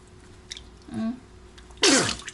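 A single sharp sneeze bursts out after a brief sniffing intake, close and loud against quiet room noise.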